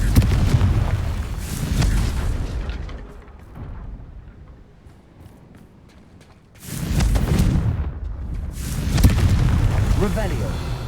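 Explosive blasting spells burst in Hogwarts Legacy, heavy rumbling booms at the start and again after a quieter stretch. A voice murmurs in the background.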